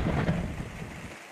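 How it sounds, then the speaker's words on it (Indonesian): Heavy rain at a jungle campsite at night, a dense broadband wash of falling water that fades slightly toward the end, with no voices. "Hujan masih lagi boleh dikatakan"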